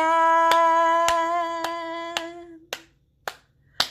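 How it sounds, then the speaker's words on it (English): Hands clap in steady rhythm along to a children's story rhyme: four sharp, even claps over a sustained sung or spoken tone, then three more separate claps after it stops, close and clear. "They made up a dance called clap and clap and clap and clap again."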